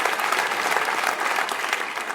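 Comedy club audience applauding, a dense, steady roll of many hands clapping close and loud, with no talk, lasting a couple of seconds.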